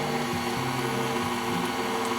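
A stand mixer set to its lowest speed steadily stirs a no-bake ice cream cake mixture with vanilla, a continuous low motor hum with faint rhythmic churning, even and close, no voices.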